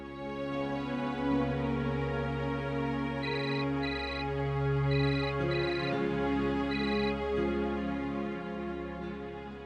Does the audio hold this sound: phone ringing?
yes